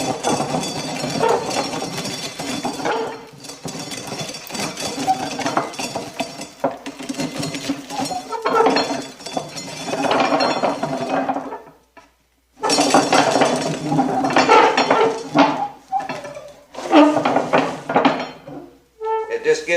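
A hand-operated grinder processes home-grown corn with loud, close metallic clanking and scraping in uneven bursts, pausing briefly partway through.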